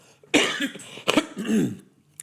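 Two sharp, close allergy coughs in quick succession, followed by a throaty rasp, with no talking.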